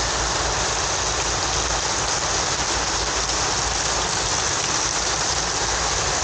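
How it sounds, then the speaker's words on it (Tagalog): Heavy rain pours down in a dense, constant hiss, loud and close, with no break throughout. "Lakas ng ulan."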